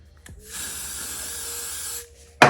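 A spray bottle misting a wig's hair gives a single sustained hiss of about a second and a half, fairly close and steady, followed by a brief sharp noise at the end; no talking.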